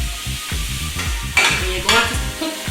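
Onions and celery sautéing in hot grease for soul food cornbread dressing, a steady crackling sizzle with repeated spoon strokes scraping the pan and two louder stirring swishes, close and with no talk.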